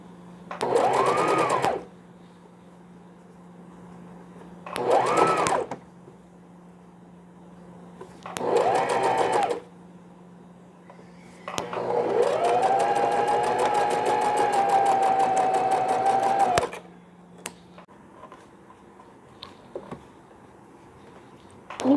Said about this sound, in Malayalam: പ്ലീറ്റ്സ് ഇട്ട സ്ഥലത്ത് പൈപ്പിംഗ് അടിക്കുകയാണ്.